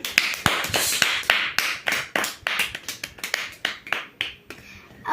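A small group clapping to welcome someone, a brisk, irregular run of sharp, close hand claps, about twenty in five seconds, uneven in strength, with no talking over them.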